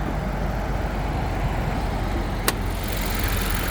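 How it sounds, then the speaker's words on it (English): A 2021 Ford Puma ST-Line's small 1-litre engine idles quietly and steadily close by, a soft even hum with a brief click partway through. "Only having that little 1 litre motor."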